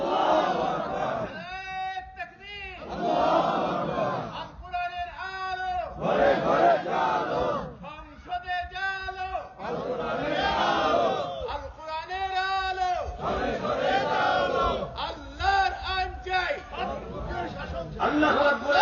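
A large crowd at an Islamic sermon gathering in Bangladesh roars Allahu Akbar in repeated loud unison chants answering a takbir call, about seven rhythmic bursts with short pauses between, close and forceful.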